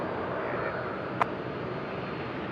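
Airliner taking off at night from runway 16 right at Sydney Airport: a steady, broad engine roar with a constant rush and one brief sharp tick midway, no voices.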